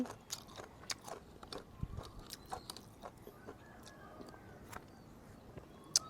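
Crunchy bites into Khao Pun rice noodle soup from Nakhon Phanom, topped with chili powder and plenty of fresh vegetables: a quiet, close series of sharp crunches and chewing clicks in an irregular rhythm, faint overall.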